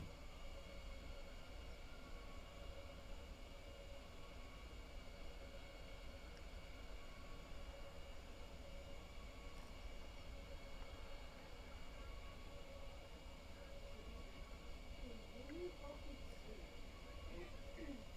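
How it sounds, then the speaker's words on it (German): Another train, likely a regional express, passes near Hagen, heard as a steady low rumble with faint wheel squeal toward the end, under quiet distant talk. "Da ist die andere, da ist der andere Zug wieder."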